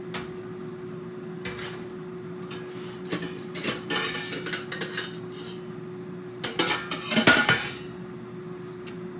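Hearty beef stew ingredients tipped into a pot on the stove: a quiet hum broken by a run of clanks and scrapes of metal utensils and cookware, with a louder clatter near the end.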